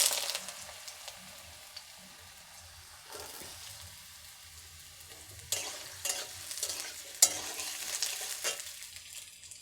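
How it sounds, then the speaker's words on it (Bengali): Cut potatoes drop into hot oil for a vegetable snack, bursts of sizzling and spattering that flare up then settle, with several distinct surges of frying noise. "এবারে দিয়ে দেব এই সাইজ করে কেটে রেখেছি আলু।"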